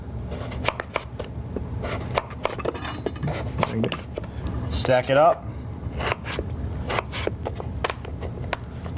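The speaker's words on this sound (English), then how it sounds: "You're just going to cut into a small dice." A knife dices butternut squash on a cutting board, with quick, irregular tapping chops and light scraping throughout while a person talks over the kitchen work.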